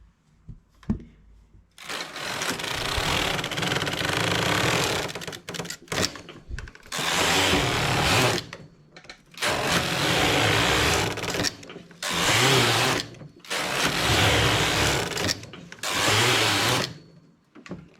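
A knitting machine knits a child's pair of trousers in closed stitch, its carriage sweeping across the bed in four loud, close, rasping passes of about two seconds each, separated by short quiet pauses.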